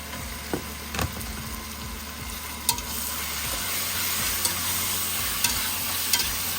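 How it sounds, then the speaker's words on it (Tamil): Cleaned mutton sizzling in a pan for a mutton kuruma, with continuous frying hiss, occasional scrapes and clinks of a stirring utensil, close and steady. "க்ளீன் பண்ணி வச்சுக்கிற மட்டனை தூக்கி அதை சேர்க்கலாம்."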